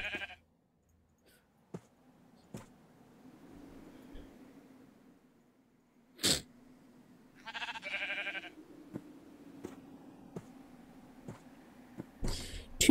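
Sheep bleating in Minecraft beside a sheep pen, a few distinct bleats at close range over a steady low wind drone, with sharp clicks and knocks between them.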